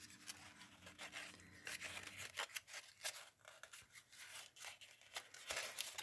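Thin paper crackles and snips while a paper silhouette is cut by hand, with dense irregular crinkling and scraping bursts running throughout, close and fairly quiet.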